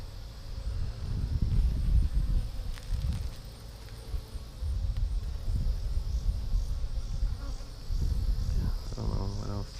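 Bees buzzing around a weakening top bar hive with hive beetles inside, a dense close drone that swells and fades in waves throughout, with occasional faint outdoor noises.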